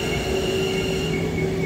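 A Spanish-built passenger train passes close by with a steady, loud metallic brake squeal that holds two sustained tones over a continuous rumbling roll of the wheels.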